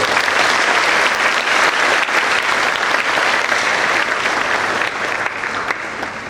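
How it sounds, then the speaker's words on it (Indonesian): A large audience at a governor's youth briefing session applauds a speaker, loud dense clapping sustained from the start that eases slightly toward the end, with faint crowd murmur underneath. "mari kita semua berikan aplaus untuk beliau"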